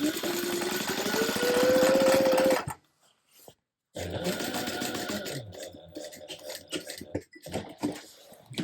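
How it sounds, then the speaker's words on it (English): A sewing machine runs a second row of stitching along the exterior piece of a shoulder bag, a fast steady whir rising in pitch, then a pause before shorter bursts and handling clatter. "I am going to give this a second row of stitching just on the exterior piece like I did on the base"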